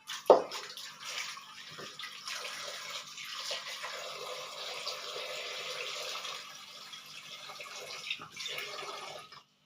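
Sweet potatoes are washed in water, giving a close, continuous splashing and sloshing with brief louder swishes at the start and near the end, and no talking.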